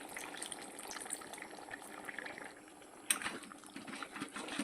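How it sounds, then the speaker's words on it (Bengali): Soaked tamarind water poured into a simmering fish curry in a pan, a soft steady liquid pour and bubbling hiss that runs throughout, with a brief louder splash partway through. "তেঁতুল ঘোলা জলটা দিয়ে দিলাম।"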